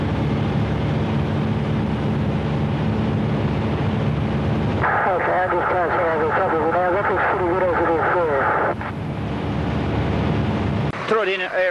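A steady, loud engine drone of a propeller airplane passing nearby at Tooradin airfield during a forced landing competition, with people talking over it partway through.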